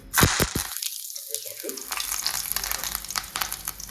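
Dried red chilies drop into hot oil for tempering, opening with a few sharp crackles and pops, then settling into a close, steady sizzle.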